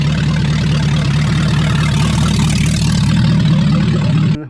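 A 1966 Mustang engine idles loudly and close by with a deep, steady, throbbing rumble, then cuts off abruptly at the end.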